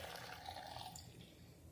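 Water pours steadily into a blender jar holding ginger and garlic for a paste, a soft close splashing trickle that fades slightly toward the end.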